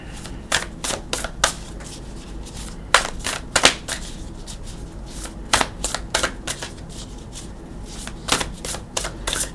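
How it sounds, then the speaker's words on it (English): A tarot deck is shuffled by hand in bursts of crisp riffling and card snaps, several quick clusters separated by short pauses, close and fairly loud. "I just give it a couple shuffles for you."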